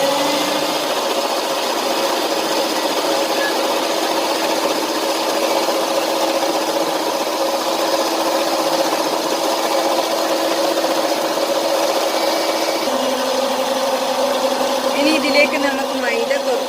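Electric mixer beating eggs and fresh cream at low speed for a caramel ghee cake, a steady motor whir that runs without a break and shifts slightly in pitch near the end.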